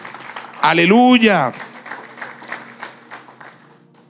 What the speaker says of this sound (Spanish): Yo quiero que le demos un aplauso al Señor.